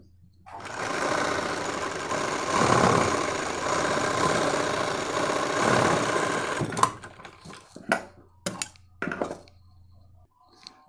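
A sewing machine stitches a bra, running in a steady whirring burst for several seconds before breaking into short, stop-start runs and a few sharp clicks, close and alone with no talk.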